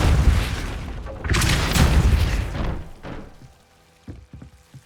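A Depulso spell cast in Hogwarts Legacy lands as a loud, booming magical blast with a rushing whoosh that fades into softer rumbling and a few light knocks.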